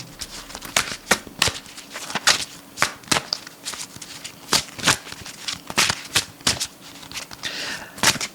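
Magical Nordic Tarot cards being shuffled by hand, a close, loud run of crisp riffling bursts repeating at a steady rhythm for several seconds, with no speech.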